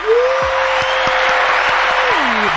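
Applause sound effect played on a live stream: steady, dense clapping runs throughout, with a sustained tone that glides up at the start and down near the end layered over it.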